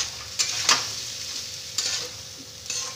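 Leftover cooked rice being stir-fried in a pan with pepper and a pinch of sugar, a soft continuous sizzle broken by a few sharp scrapes and clatters of a spatula.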